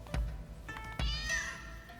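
Cats meowing in the game Rise of the Ronin, two or three close, clear meows in quick succession, the last one rising and drawn out.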